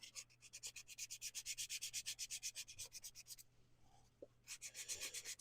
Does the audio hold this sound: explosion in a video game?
no